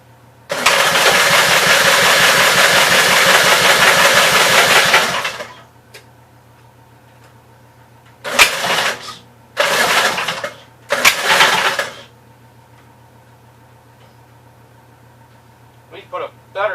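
A 1958 Gravely tractor engine cranks for about five seconds, loud and close, then sputters through three short bursts of attempted firing, leaving a steady low hum between them.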